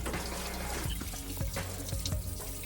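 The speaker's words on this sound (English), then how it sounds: "So just running the hose through here so I can check under to make sure that it's actually draining where it's supposed to." Water runs steadily through a hose into the drainage system under a bus being converted, a close, continuous splashing flow with a few soft drips and gurgles.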